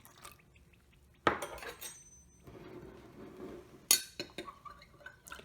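Rehydrating powdered egg stirred in a container, a few sharp clinks of utensil against the container among softer scraping, close and alone.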